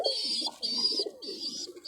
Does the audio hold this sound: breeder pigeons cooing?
yes